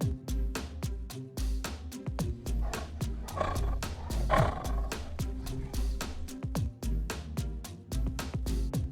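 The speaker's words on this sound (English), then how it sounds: "Tiger." Tiger roaring in a wild-animal sound sequence: repeated loud, close, guttural roars and growls pulse in a steady series, building to a stronger swell midway.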